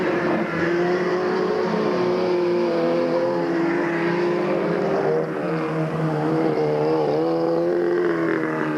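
Race cars roar around Delta Speedway on the final lap of a 1997 race, a loud, continuous engine drone with shifting pitch as cars pass, filling the whole stretch with no voices.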